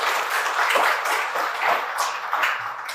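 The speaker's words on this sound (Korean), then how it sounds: "박수로 환영해 주십시오" An audience in a symposium hall applauds to welcome a discussant, a dense, steady wash of many hands clapping that holds at even loudness throughout, with no talk over it.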